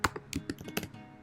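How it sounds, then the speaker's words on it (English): Quick bursts of keystrokes on a computer keyboard as a command is typed, about seven close, crisp taps in an uneven rhythm, with no voice over them. "So back in terminal, we're going to type in the words pod install."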